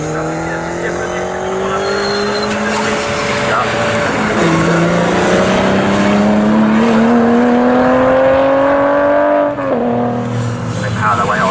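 Swinging Sixties Group 2 race cars at Snetterton roar past in a loud, sustained engine drone with rising revs and gear changes, a second car blending in before a brief dip near the end, commentary running over the top.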